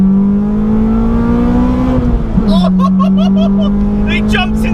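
Phoenix Yellow modified Honda Civic EK9 Type R pulling hard in second gear, a loud, steady engine note rising in pitch, with a voice speaking over it near the end.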